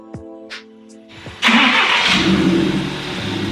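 A couple of short beeps, then a starter whirs and a car engine catches on a remote start command, settling into a strong, close idle.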